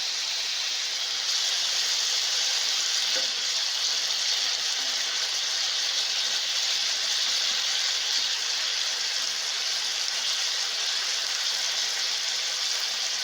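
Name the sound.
marinated chicken frying in a pan on medium heat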